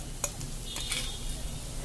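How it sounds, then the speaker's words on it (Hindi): Garlic-ginger paste frying in a pan for a spicy potato sandwich filling, a steady low sizzle with soft scraping stirs and a light utensil tap near the start, close and continuous. "लहसुन, अदरक का पेस्ट। अब इसे हम भून लेते हैं।"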